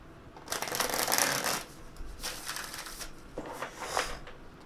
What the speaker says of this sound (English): the cards don't seem to want to shuffle today